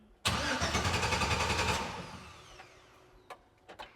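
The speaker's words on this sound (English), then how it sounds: "So now we'll crank it over and see." A Jeep engine, long unused, cranks and catches, running roughly for about a second and a half before fading to an idle, followed by a couple of short clicks.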